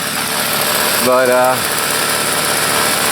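A tiny snow blower engine runs steadily throughout at a close, even drone, with a brief spoken word partway through.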